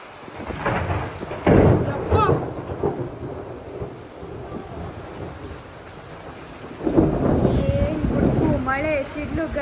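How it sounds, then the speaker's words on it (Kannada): A thunderstorm with heavy rain: deep rolling thunder rumbles twice, once early and again louder near the end, over a constant hiss of rain, with people talking intermittently nearby. "ಮಳೆ ಸಿಡ್ಲು ಗೈಸ್."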